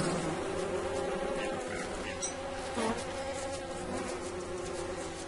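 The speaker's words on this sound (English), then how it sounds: "Get off me, bee." A bee buzzes steadily through the whole stretch of Don't Starve gameplay, close and continuous under the game's ambient sound, with no talk.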